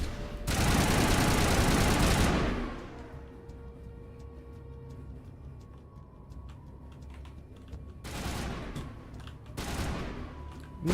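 Rapid automatic gunfire in a video game, a loud sustained burst for about two seconds, then a quiet lull with faint background tones before two shorter bursts near the end.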